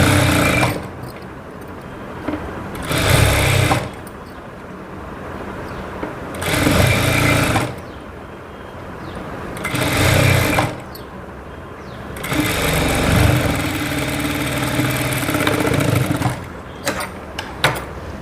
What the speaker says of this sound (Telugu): ఇప్పుడు దీన్ని ఇలా ఫోల్డ్ చేసి కుట్టేసేయండి